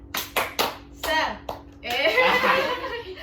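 Children in a second-grade classroom doing a rhythmic clapping chant, a few sharp separate claps in a quick pattern, then a burst of group voices chanting and laughing together.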